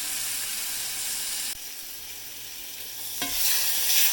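Tomato puree sizzling with toasted spices in a pan for chicken tikka masala, a continuous hiss that dips briefly, then surges with a sharp burst of steamy crackle as it is stirred.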